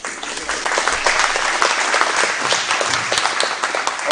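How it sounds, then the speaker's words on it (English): A political audience at a Nemaha County Republican candidates forum applauds a state senate candidate, with steady, dense clapping filling the room at full strength from start to finish. "I want to give a round of applause to Senator."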